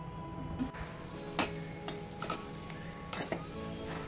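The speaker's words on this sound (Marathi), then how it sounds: "या करंजा मी आता तळून घेते." Karanji sweet dumplings deep-fry in oil with a faint continuous sizzle, punctuated by several sharp clicks and scrapes of a utensil against the pan; quiet overall, no speech.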